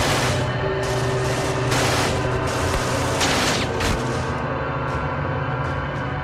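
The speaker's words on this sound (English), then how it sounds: "18-year-old German conscript Franz Gockel has been shooting at American troops continuously since the Allied invasion began" Sustained gunfire from a German concrete bunker overlooking Omaha Beach on D-Day, a dense run of bursts and booms layered over a steady mechanical drone, loud and continuous.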